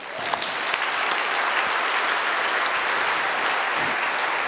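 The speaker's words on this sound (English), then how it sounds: "Can we give them a round of applause?" A conference audience gives a full, loud round of applause, dense steady clapping that fills the hall at close range from start to finish.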